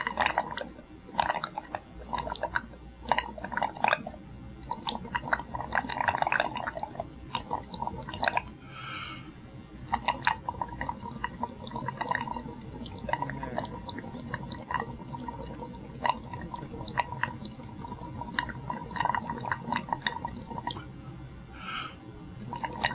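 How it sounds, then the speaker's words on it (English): Breath blown from the lungs through lime water in a glass vessel gurgles and bubbles in a series of wet, irregular pops and drips, close and fairly soft, with no talk. "if I throw the air from my lungs through the lime water several times in succession"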